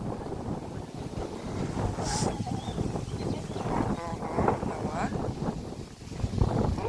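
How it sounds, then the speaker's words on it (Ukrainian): Strong gusts buffet the microphone with a low, rumbling roar in a dendropark in Ukraine, while people talk loosely over the blustery outdoor noise. "Ой, вітер ще сьогодні прям такий, аж зноси."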